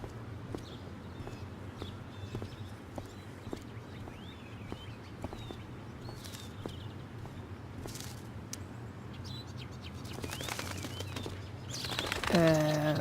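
Bird sounds from the Life is Strange Before the Storm video game at the Blackwell school grounds: faint scattered chirps and wing flaps over steady ambient hum, with louder calls rising near the end.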